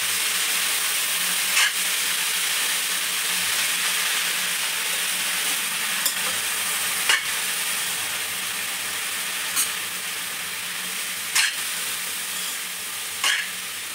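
Vegetables fry in a pan with a constant, even sizzle, broken every couple of seconds by short scraping clinks as they are stirred, about six in all, with no talking.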